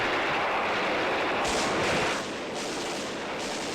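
Gunfire in a battle scene from an Urdu drama: dense, continuous roar of distant shooting and explosions, loud and sustained with no distinct individual shots.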